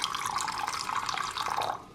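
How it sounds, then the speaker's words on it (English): Hot, not boiling, water is poured into a matcha bowl from a Teanagoo tea set, making a steady close trickling splash that runs continuously and eases off at the end. "Then you add some hot but not boiling water."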